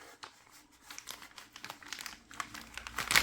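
Plastic packaging crinkled and torn open by hand from a clothing haul, a steady near crackle of rustling that grows louder toward the end, with no talk over it.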